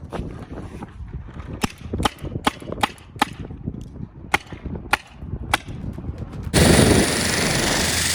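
Tippmann A5 paintball marker firing about a dozen sharp pops in irregular bursts, with rustling between shots, ending in a loud rush of air.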